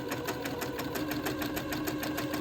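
Close and steady, a sewing machine stitches a zigzag along the top edge of lace on a baby daydress, its needle chattering in a rapid, even mechanical rhythm throughout.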